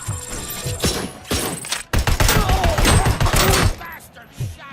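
Gunfire in the video game RoboCop: Rogue City, loud close bursts and heavy thuds in a chaotic volley, with shouting voices mixed in.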